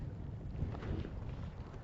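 Gusty wind buffeting a microphone outdoors on a hike near a ridge or mountain top, a brief low rumbling roar with no other clear sounds.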